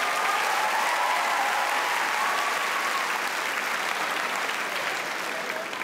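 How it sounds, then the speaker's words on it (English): A studio audience at a children's talent show applauds in a sustained, even roar of clapping, moderately loud and unbroken, with no speech over it. "Give a round of applause."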